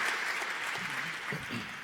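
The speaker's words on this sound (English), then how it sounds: "thank Mike and Jim, and Michael, please give them a warm round of applause" Audience applause at a live-streamed conference event, a steady, fairly loud wash of clapping lasting about two seconds.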